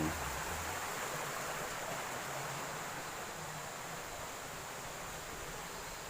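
Cool stream water flows steadily near a tunnel site in Betong, Yala, giving a continuous broadband rush of moderate level with no clear breaks. It stays even from start to finish and carries no speech.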